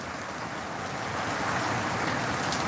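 Steady rain falling outdoors, a dense, even hiss of drops that holds constant at moderate loudness with no talking over it.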